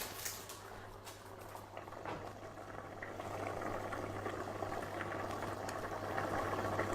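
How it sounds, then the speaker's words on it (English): Water in a pot heats toward the boil on a kitchen stove for cooking rice, a steady rising bubbling and simmering hiss with a low hum underneath, no talking. "Just bring the water to the boil."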